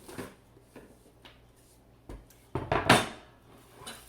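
Chopped onions tipped from a board into another bowl while making French onion soup, with a few close clinks and knocks of dishware and a brief louder scrape and clatter near the end.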